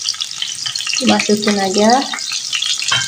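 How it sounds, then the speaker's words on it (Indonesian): Onion and garlic dropped into a hot pan of oil for a Middle Eastern kuba batatis dish, sizzling steadily and close by, with a brief voice speaking over it. "Kita masukin aja ini bawangnya dulu."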